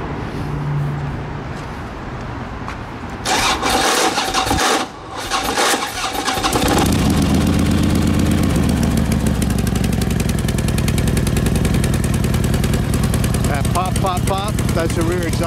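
A 2007 Harley-Davidson Road King with a 103-inch engine, a worn Bendix starter gear and a rear exhaust leak, cranks with a grinding starter, fires up loudly and settles into a steady, lumpy idle nearby.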